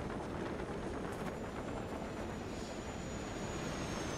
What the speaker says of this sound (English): Are you in a plane?